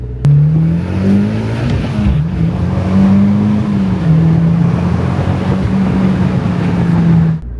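A Mitsubishi Evo X drives steadily on a test drive, its engine holding a smooth, even drone heard from inside the cabin with slight rises in pitch and no talking.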